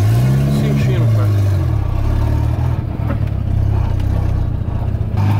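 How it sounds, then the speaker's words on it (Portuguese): A car engine runs steadily while driving, with a low rumble and a possible knocking from the engine or suspension, a rev rising then settling early on, loud and continuous throughout. "Tô sentindo que tem alguma coisa batendo no motor ou é a suspensão"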